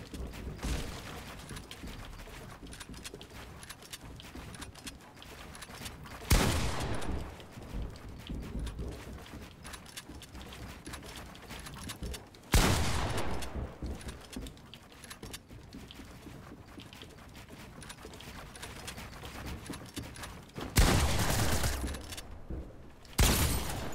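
Shotgun blasts in a Fortnite 1v1 match: three or four loud, sharp bursts spaced several seconds apart, over a continuous clatter of in-game movement and mechanical noise.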